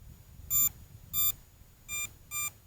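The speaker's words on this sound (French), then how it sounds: "Vous entendez le bip du Bugs." Four short electronic beeps from an MJX Bugs drone left switched on, evenly spaced, clear and fairly close over a quiet low background.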